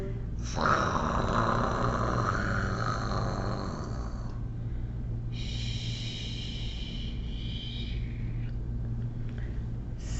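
A voice imitates snoring with a long rasping inhale, then a wheezy snort after a pause, over a steady low hum.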